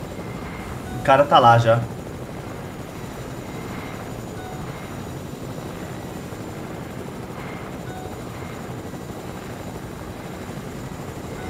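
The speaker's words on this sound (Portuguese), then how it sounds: "Por que meu helicóptero parou, velho?" A helicopter in the video game Fortnite gives a continuous droning rotor hum, steady and moderately loud throughout, while someone speaks briefly over it near the start.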